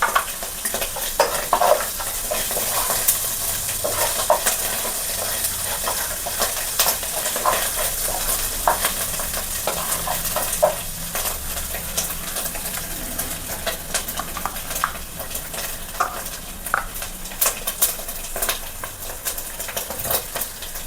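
Chopped ginger frying in hot oil in a pan for vegetable noodles, a steady loud sizzle with continuous scraping stirring strokes throughout, close up and without talk.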